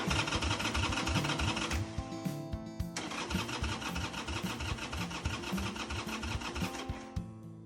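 An old Harley-Davidson motorcycle that has sat for ten years cranks over loudly and rhythmically, its starter churning in two long bursts separated by a brief pause, close up and without speech.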